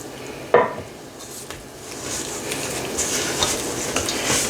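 Scone batter made with almond milk being mixed in a bowl, a sharp knock near the start followed by soft, continuous scraping and stirring, close and moderate in level.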